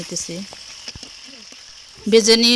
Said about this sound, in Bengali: চুলা একটা কড়াই বসে পরিমাণ মতন তেল দিয়ে এখন আমি উল্টিয়ে পাল্টিয়ে এই মোরগগুলোকে ভেজে নিয়ে